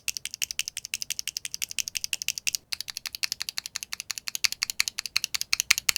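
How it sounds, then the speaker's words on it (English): A single loose Gateron Oil King mechanical keyboard switch pressed repeatedly: crisp, close clacks in a fast, even rhythm with one brief pause, alone with no talk. "Here is a single switch sound test of the Oil King."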